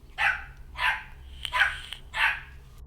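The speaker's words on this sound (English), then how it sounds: "He's barking at us now" A dog barks four times at an even, unhurried pace, each bark sharp and moderately near over a low steady hum.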